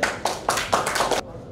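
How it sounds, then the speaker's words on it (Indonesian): A class of high school students claps for a classmate in short bursts, about five quick rounds of close, fairly loud hand claps before abrupt silence. "tepuk tangan dong buat temannya namanya Putri"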